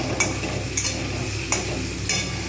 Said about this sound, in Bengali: পেঁয়াজের সাথেই একটু ভেজে নেবো।